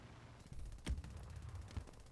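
In the War Thunder video game, a tank fires at a bush, giving two muffled, low booms about a second apart over steady game rumble.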